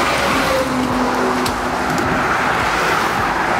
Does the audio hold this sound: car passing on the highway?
yes